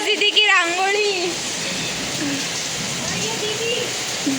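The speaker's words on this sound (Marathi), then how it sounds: "पाऊस पडायला लागलाय आमच्याकडे आणि माझी रांगोळी वाहते" Steady rain pours down on a Diwali rangoli outdoors, a continuous close hiss of drops, with a voice speaking briefly at the start.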